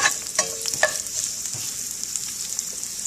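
Chopped bacon and onion are stirred as they fry in a cast iron skillet, giving a steady close sizzle with a few scraping utensil strokes near the start.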